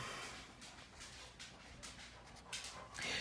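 A dog whimpers and whines in a home, several short high whines and yelps in uneven bursts, fairly close and clear with no talking over them.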